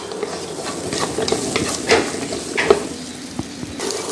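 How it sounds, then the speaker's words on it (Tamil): Chopped onions sautéing in a pan, a steady close sizzle with scraping stirs and light clinks of a spoon against the pan, no voices over it. "வெங்காயத்தை சேர்த்துட்டு வதக்கி விட்டுக்கலாம்"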